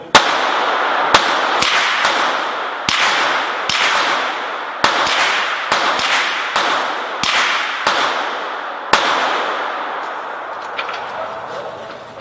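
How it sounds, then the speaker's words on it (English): Suppressed 9mm gunshots, a hot load fired through a titanium Liberty Infiniti suppressor: about a dozen sharp, close reports in an irregular rapid string, each followed by a brief tail, then the firing stops. "the Infiniti still does a really good job of suppressing the noise of the gunshot"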